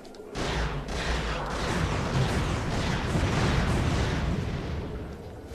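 Weapons firing at Yetis in Ratchet and Clank: Going Commando, a loud continuous roar of blasts and explosions that holds steady throughout with no pauses.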